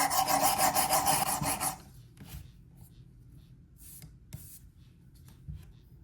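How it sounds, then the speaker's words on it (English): An EDC pocket knife scrapes across a sharpening stone in a loud, quick run of rasping back-and-forth strokes that stop abruptly, leaving a quiet room with faint scattered rustles. "It makes it a lot easier to move the stone up and down."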